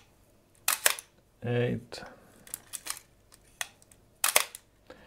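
A vintage 35mm camera shutter fires several times, giving sharp mechanical clicks spread across the moment at slow speeds, with one longer buzzing release in the middle; someone talks briefly between the clicks.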